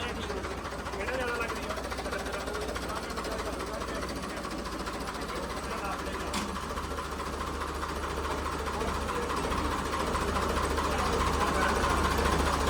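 A Ford 3600 tractor engine chugs steadily and loudly, straining while hauling a load of sand, with a rhythmic mechanical rattle and a low rumbling drone that builds slightly toward the end.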